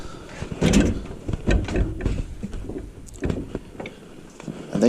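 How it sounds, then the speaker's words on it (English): A mobile mechanic's service truck door slides and thuds shut, a few loud close knocks and rattles with a rolling scrape between them, no talk. "I better make sure the door closes."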